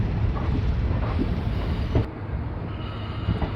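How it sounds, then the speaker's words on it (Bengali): The Kanchankanya Express pulls out of Alipurduar station on a clear day, a steady loud rumble of rolling wagons and rail noise with faint wheel clatter and a brief screech near the middle. "ট্রেন আলিপুরদুয়ার থেকে ছাড়লো 8 মিনিট লেটে"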